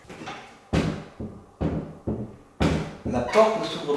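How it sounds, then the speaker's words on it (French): A bedroom door repeatedly thumps against a bed as it fails to open, giving several close, heavy knocks in an uneven rhythm. "la porte ne s'ouvre pas, ça ne rentre pas"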